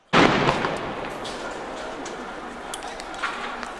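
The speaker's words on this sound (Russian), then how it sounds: "Происходит взрыв горюче-смазочных материалов." A fuel and lubricant explosion at a rail depot: a sudden loud blast bursts out, followed by a long roaring, crackling rumble that slowly fades, with scattered sharp pops.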